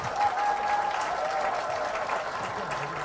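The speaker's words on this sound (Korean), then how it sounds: "다시 한번 감사의 박수" Steady applause from an audience at a Democratic Party town hall meeting in Jeju fills the whole stretch, with a faint voice carrying over it.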